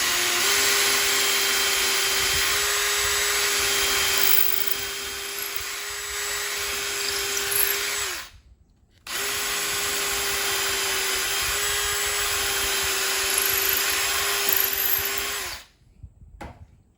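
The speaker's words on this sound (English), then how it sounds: "So now I'm just going to drill my hole." A power drill whines loudly and steadily in two long runs boring holes through cabinet wood with a jig, each cutting off abruptly with a brief pause between them.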